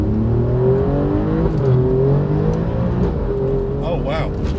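An Alfa Romeo Giulia Quadrifoglio on winter tyres pulls away in first gear, its engine note rising and shifting near and loud, with someone talking over it.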